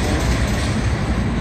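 A train at Canal Ridge passes close by in a loud, dense rumble of wheels and cars that fills the whole moment without a break.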